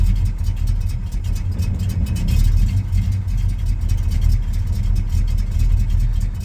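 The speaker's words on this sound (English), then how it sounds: "Yeah, she's idling." A 1974 Camaro Z28 engine, running again after sitting for ten years, idles with a steady low rumble that fills the whole stretch, loud and close, with no talk over it.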